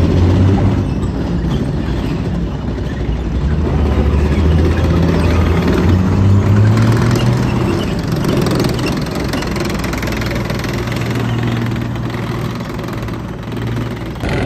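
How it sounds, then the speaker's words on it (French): An AMX-30 armoured recovery vehicle rumbles past at a French armour display, its heavy engine droning steadily and loud throughout, with low tonal growl and track clatter and no voices. "un engin de dépannage cette fois-ci, l'AMX-30."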